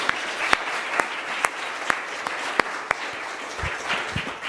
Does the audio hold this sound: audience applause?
yes